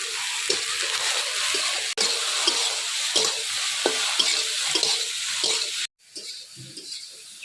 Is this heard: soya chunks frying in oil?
yes